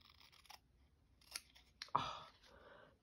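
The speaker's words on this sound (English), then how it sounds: "love the sound of sharp scissors on fabric." Sharp scissors snipping through fabric, a few quiet crisp cuts followed by a longer rasping slice, close and isolated in a quiet room.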